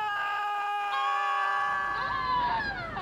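Several people scream loudly and continuously inside a downtown scream booth, voices overlapping in shrill, sustained cries with a crowded, reverberant background.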